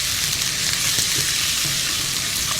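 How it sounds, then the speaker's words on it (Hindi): Chicken frying in a pan with a steady, loud, close sizzle that continues without a break, with faint stirring. "यहाँ पे चिकन को हम फ्राई कर रहे हैं।"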